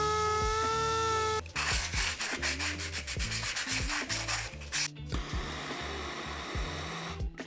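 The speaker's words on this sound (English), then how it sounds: "Gonna use a little abrasive wheel to clean up this bore here." A small abrasive wheel grinds and rubs inside the bore of an RM250 motorcycle engine part held in a vise, loud close bursts of harsh scraping that start and stop in quick repeated strokes after a brief whine.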